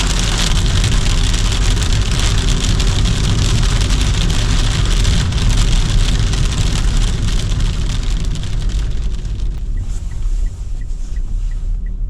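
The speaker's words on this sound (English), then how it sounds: "It sounds very unpleasant, more like hail than snow." Hail pelts a parked car and the surrounding ground during a Hokkaido winter, a dense, loud, continuous patter and rattle that holds steady, then thins slightly near the end.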